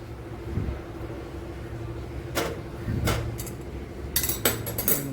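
A spoon scrapes and clinks against a pan of tea on a stove, a few sharp metallic knocks and rattles over a quiet low hum, with no talk.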